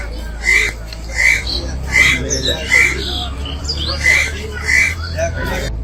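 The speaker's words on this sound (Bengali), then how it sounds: "সাদা কাক" A white crow at a zoo gives a series of harsh, evenly spaced squawks, about eight calls in quick rhythm, fairly close, over a steady low hum with faint voices in the background.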